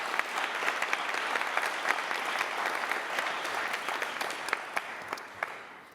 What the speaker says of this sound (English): So please, a round of applause for both sides.